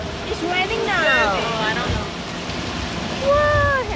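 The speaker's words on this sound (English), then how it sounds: "The rain is coming out of these little high-tech devices called sprinklers." Steady artificial rain from pole-mounted sprinklers hisses over a Universal Studios Hollywood backlot set during the studio tour, a constant wash with people talking over it throughout.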